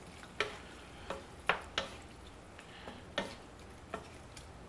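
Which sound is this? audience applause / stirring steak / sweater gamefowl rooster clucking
stirring steak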